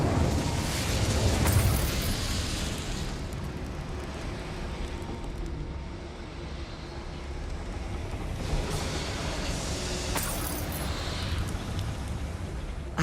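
Incendio fire spell cast in Hogwarts Legacy: a loud, noisy fiery burst and whoosh, with a second burst later over a steady rumbling game backdrop.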